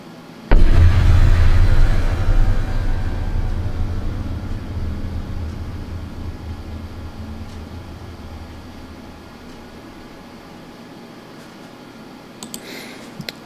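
A layered explosion sound effect hits with a sudden loud boom, then a long rumbling roar decays slowly over about ten seconds. A faint crackle follows near the end, and no one speaks.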